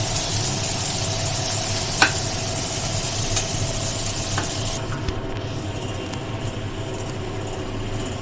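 Food fries lightly in a kadai, a steady soft sizzle with occasional stirring clinks from the pan, fairly close and without talk.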